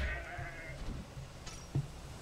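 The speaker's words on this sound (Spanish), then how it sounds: "Los cuernos de la cabra son míos" A goat-like creature in the video game Zanki Zero gives a short, quiet bleat with harmonic wavering early on, followed by soft thumps and game sounds.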